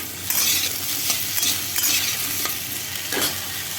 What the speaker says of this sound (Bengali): গোটা জিরে আর কাঁচা লঙ্কা চেরা ফোড়ন দিয়ে এই যে তরকারি বানাচ্ছি